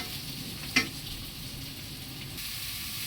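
Chopped bottle gourd (upo) sautés in a pan with a steady, moderate sizzle, broken early by one sharp utensil clink, and no talking.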